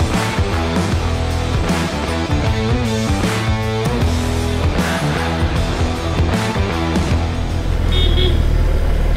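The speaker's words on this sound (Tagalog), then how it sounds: "Cute ng busina, no?" A BMW R18 cruiser motorcycle sounds its horn in a series of short, close toots amid busy traffic and engine noise, the honks repeating irregularly over several seconds.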